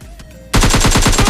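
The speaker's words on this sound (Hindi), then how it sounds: "यहाँ पर आ रहे थे गोलियों के साउंड।" Sudden loud burst of rapid automatic gunfire in a battle royale shooter game, a steady rattling stream of close shots that starts abruptly after a quiet moment and runs to the end.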